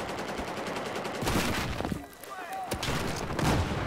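Battlefield 4 video game gunfire: repeated loud shots and automatic bursts crackling throughout, briefly thinning out partway before picking up again, with a voice talking over the shooting.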